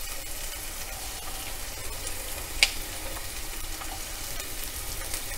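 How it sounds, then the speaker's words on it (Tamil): Onions sautéing in a teaspoon of oil for a curry-leaf pepper chicken give a steady, soft sizzle throughout, broken once by a single brief, sharp click. "அதுக்கப்புறமா நம்ம வெங்காயத்தை வதக்கிக்கலாம்"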